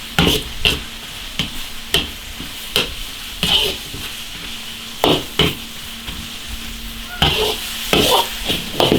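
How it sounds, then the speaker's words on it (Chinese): Pork with salt and soy sauce is stir-fried in an iron wok, a steady sizzle broken by regular metallic scrapes and clanks of the spatula, close and clear, with no talking. "放一丝丝盐，放点酱油， 炒熟就行了。"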